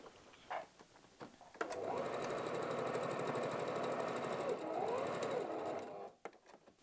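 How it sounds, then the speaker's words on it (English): A sewing machine runs steadily for about four seconds, stitching around the edges of a wallet lining, with a loud, close, even mechanical whir and a few faint handling sounds before and after. "just run some base stitching again around the same edges"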